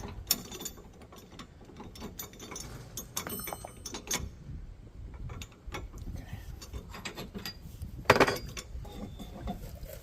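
A ratchet loosens an anti-rattle hitch immobilizer on a trailer hitch shank, giving irregular metallic clicking and clunking with gear-like rattles and one sharper metal clank near the end; nobody speaks.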